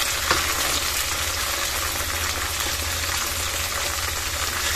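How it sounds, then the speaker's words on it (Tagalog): Steady crackling sizzle of tofu frying in hot oil, continuous and fairly loud with a low background hum, no voices. "at tayo po nagpiprito ng tokwa"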